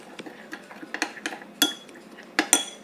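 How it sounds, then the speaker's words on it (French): Seasoned potatoes being mixed in a bowl for smashed potatoes give a run of light scraping clinks and utensil taps, irregular and close, with a few sharper knocks. "Voilà, on mélange tout ça."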